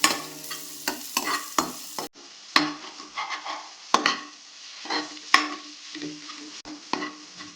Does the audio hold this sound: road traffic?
no